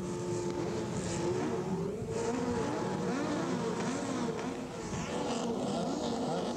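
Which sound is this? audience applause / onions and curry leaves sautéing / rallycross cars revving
rallycross cars revving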